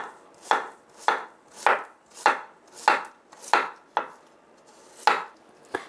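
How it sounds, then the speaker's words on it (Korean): A knife chops mushrooms into thick strips on a cutting board, about ten crisp, evenly spaced strokes landing close and loud, with no talk. "굵직하게 굵은 채를 썰어서"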